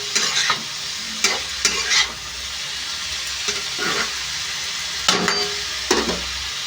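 Potatoes fry in an iron pan with a steady close sizzle, punctuated by several sharp metallic scrapes and knocks as they are stirred, and no talking.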